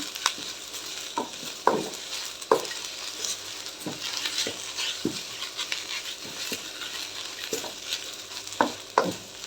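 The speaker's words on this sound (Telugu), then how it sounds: "మాడకుండా చూసుకోవాలి మాడకుండా దగ్గరుండి ఇట్లా కలుపుతా వేపుకోవాలి" Curry leaves frying in a pan and stirred by hand, a soft steady sizzle broken by repeated scraping spoon strokes at an uneven rhythm, close and without talk.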